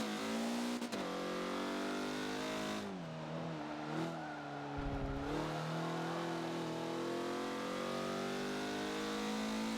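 A race car in Forza on the Yas Marina South track revs hard under throttle, its engine whine climbing through gear changes with brief dips. The sound is loud and close, with almost no talk.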